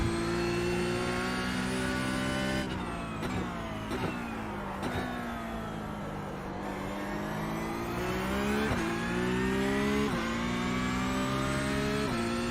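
Porsche race car engine in a road course racing video game, a steady high-pitched drone with repeated rises and dips in pitch as the car shifts and accelerates, continuous and fairly loud with no talk.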